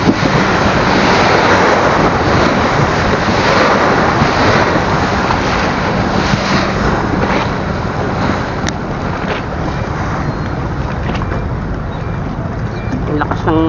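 Strong sea waves pound around a small fishing boat at sea, a loud, steady wash of surf and wind that fills the whole stretch without a break, with voices talking over it.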